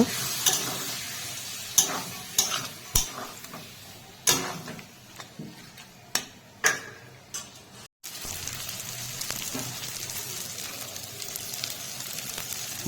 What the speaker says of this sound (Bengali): মশলা যাতে পুড়ে না যায় তাই হালকা জল দিয়ে আর একটু ভালো করে কষে নেব